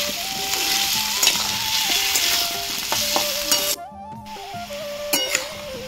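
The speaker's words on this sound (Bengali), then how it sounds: "আলুগুলোকে ভালো করে ভেজে নেবো" Potatoes frying in a pan for a Bengali banana-flower mochar ghonto, a continuous hissing sizzle with occasional clinks under steady background music.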